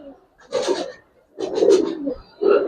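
Pigeons of colouring breeds at a seller's stall coo nearby in three low, throaty bursts separated by short pauses.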